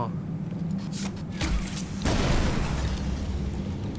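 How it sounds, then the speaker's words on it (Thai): Ice bomb exploding in the video game Poppy Playtime Chapter 4, a muffled boom with a burst of crackling debris midway through, heard beneath ongoing talk and game noise. "ยิงแล้วมันจะกลายเป็นระเบิดน้ำแข็ง"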